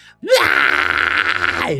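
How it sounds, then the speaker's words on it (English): One pure fry scream from a vocalist, rising in pitch at the start and then held low, gritty and loud for about a second and a half in a close, dry recording. "if I do that with a pure fry scream, I can go lower"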